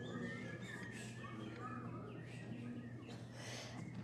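Audience members imitating bird calls, a scattered mix of chirps, peeps and whistles from several voices spread across the room, over a steady low hum.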